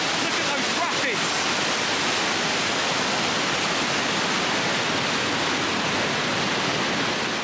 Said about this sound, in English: There's the river. And there is the spillway. And look at that water. Look at those rapids.